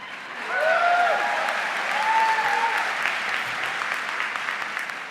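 Audience applause at a university undergraduate commencement, a broad wash of many hands clapping that swells and holds, with a few cheers or whistles rising above it in a large space.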